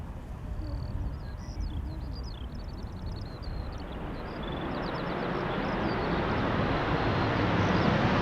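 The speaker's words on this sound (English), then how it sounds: "That was a KLM 737 that was using its reversers" A KLM Boeing 737-800 landing at Schiphol Airport with thrust reversers deployed, producing a broad, steady roar that builds in loudness, with birds chirping faintly over it and no talk.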